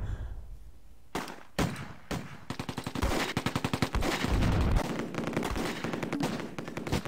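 Rapid bursts of machine-gun and rifle fire from the World War II tactics game Close Combat, German campaign, loud and close, with rattling volleys and single heavy shots that build into sustained firing.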